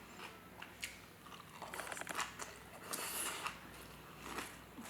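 Close chewing and crunching of tofu kimchi salad eaten with chopsticks, with soft crisp bites and moist squishes coming in irregular bursts, fairly quiet and without talk.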